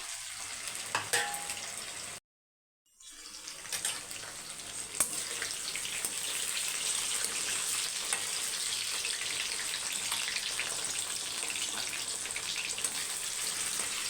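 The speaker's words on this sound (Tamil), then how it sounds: "நல்லா தனித்தனியாக போட்டு பொறிச்சு எடுத்துக்கோங்க எண்ணெய் நல்லா ஹீட்டாக இருக்கணும்" Chicken 65 pieces deep-frying in hot oil, giving a steady, dense sizzle and crackle that runs close and continuous, briefly cut to silence near the start before resuming.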